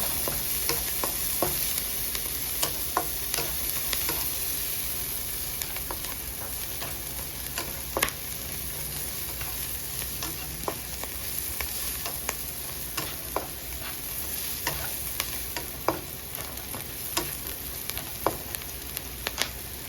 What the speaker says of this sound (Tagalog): Nilagyan na rin natin ng garlic, onions at garlic. Igisa muna natin ng brown.